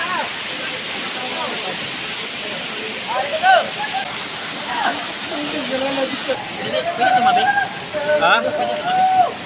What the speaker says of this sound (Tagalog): The waterfall feels like a massage at the back.